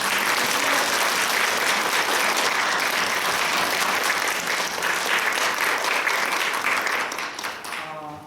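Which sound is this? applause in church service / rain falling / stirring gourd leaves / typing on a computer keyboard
applause in church service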